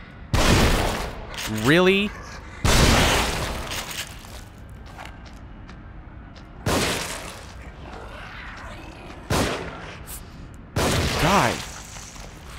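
Enemy gunfire in The Evil Within comes as several loud, separate booming bursts spaced seconds apart, with a quieter ambient bed between them and a brief spoken remark.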